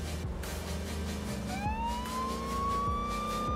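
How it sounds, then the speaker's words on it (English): A police siren in the racing game Forza Horizon 3 winds up and wails over an idling car engine rumble, close and loud, rising steadily in pitch. "If I should put my siren on."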